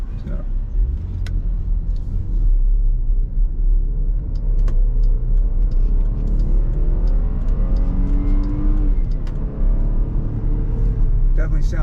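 A 2020 Jeep Grand Cherokee Limited in sport mode, its engine rumbling and pulling up through a rising rev, heard from inside the cabin with steady road roar and occasional clicks.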